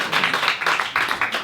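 Audience clapping and applause for a stage manager at a small lounge event, a dense close patter of many hands at steady loudness.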